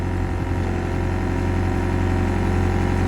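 An excavator engine drones loud and close under throttle at a construction site, a steady heavy rumble with no clear rise or fall, without any talk.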